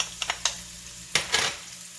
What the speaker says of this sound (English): And then we're gonna throw in the shallots